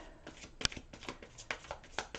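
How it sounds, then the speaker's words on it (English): A deck of tarot cards being shuffled by hand during a reading: quick, crisp riffles and flicks in an irregular rhythm, close and fairly quiet, with no talking. "One more shuffle for Scorpios, please, universe"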